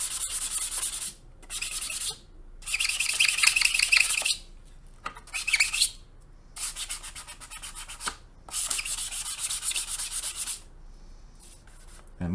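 Polishing compound rubbed over the painted surface of a 1/48 ICM He.111 H-3 scale model: bursts of close, hissy rubbing strokes in several rhythmic passes, separated by short pauses.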